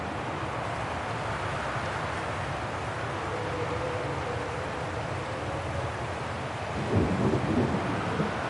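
A steady rumble of rain and distant thunder fills the scene in Syberia The World Before, a constant broadband roar with a brief louder swell near the end.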